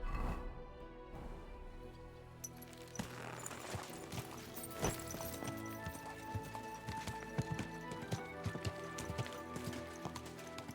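Horse hooves clip-clop steadily on the ground in Kingdom Come Deliverance 2, a fairly close run of uneven beats with a faint whinny and patter like light rain behind.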